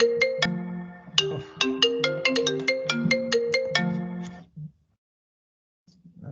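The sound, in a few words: phone ringtone playing through a connected MacBook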